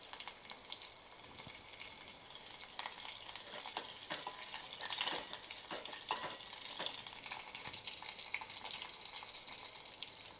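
Garlic, curry leaves and cumin fry in hot oil for masala kadhi, giving a continuous close sizzle broken by crackling pops and stirring scrapes, with no voices.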